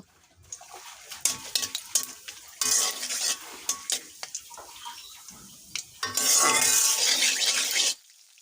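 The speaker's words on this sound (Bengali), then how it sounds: "একটি তেজপাতা দুটা দারচিনি এবং এলাচ দিব লবঙ্গ দিতে পারেন আমি দুটা লবঙ্গ দিয়েছি বেশি দেইনি এবার এটা ভালো করে ভেজে নিব" Whole spices (bay leaf, cinnamon, cardamom and cloves) fry in hot oil in a pan, with scraping stirs and utensil clinks between two loud stretches of bright sizzling, heard close up with no talk.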